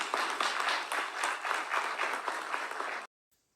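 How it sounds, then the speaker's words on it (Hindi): Crowd at a government event for farmers in Indore applauds the Chief Minister's arrival with vigorous, continuous clapping that swells in waves, then cuts off abruptly into silence. "आप सभी की तालियां जोरदार होनी चाहिए"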